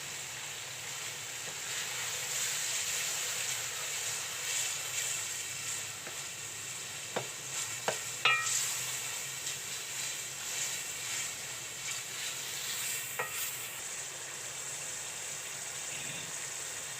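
Beef mince frying in a masala gravy in a pan, a steady broad sizzle and hiss throughout with a few brief louder pops and crackles near the middle.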